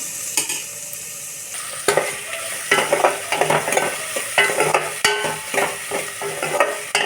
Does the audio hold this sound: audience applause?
no